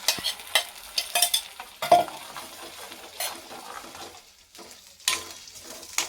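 Gravy tipped into ginger and garlic frying in a pan for kaju curry, giving a close sizzle with bursts of spoon stirring and scraping against the pot, then quieter bubbling, no voices.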